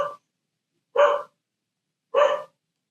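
A dog barks downstairs in a home, three separate barks spaced about a second apart, moderately loud and clear with quiet between them and no talk.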